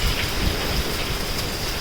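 Hail and rain pelt down in a dense, continuous hiss during a hailstorm in Samha, Abu Dhabi, a steady close wash of impacts with no voices.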